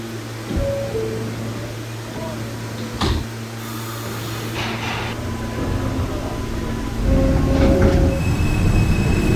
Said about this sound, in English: This is an 8th Avenue bound L train.